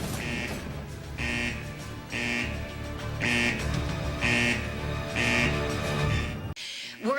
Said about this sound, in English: We're in the middle of a lockdown right now, which is why the alarms are going off and the lights are flashing